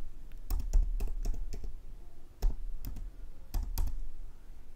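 Typing on a computer keyboard while entering a table name into a data pipeline form: close, crisp key clicks in short bursts separated by brief pauses, with no talking.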